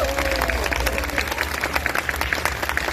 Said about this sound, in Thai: ปรบมือกับตัวเองครับ